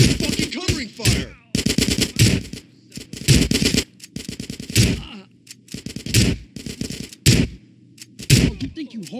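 Gunfire in a GTA San Andreas shootout: repeated loud bursts of automatic fire in short clusters separated by brief pauses, with scattered single shots and cracks, close and punchy throughout.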